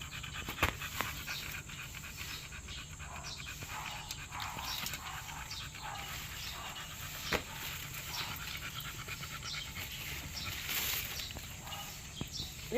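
A dog panting heavily in the heat, fast rhythmic breaths close by over a soft background hiss, with a few faint whimpers and clicks.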